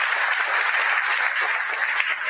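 A room of wedding guests claps warmly for their pastor, an even, continuous roar of many hands that holds at full strength throughout with no talk over it.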